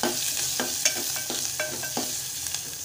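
Curry leaves, finely chopped green chillies and onion fry in oil in a pan for a Malvani-style black-eyed pea dish, a steady bright sizzle broken by regular spatula strokes scraping the pan about twice a second.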